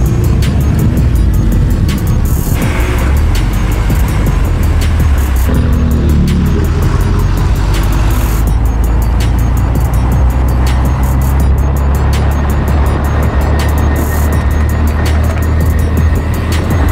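A loud modified BMW M2 Competition with its exhaust flaps open, driving through Marbella: a heavy, continuous engine roar with shifting revs and a few sharp pops, loud and close throughout.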